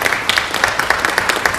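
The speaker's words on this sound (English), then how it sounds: "let's give these CASA representatives a round of applause" Applause for Court Appointed Special Advocates representatives at a Lawton city council meeting: steady, moderately loud clapping from a room of people, dense and continuous throughout with no talking over it.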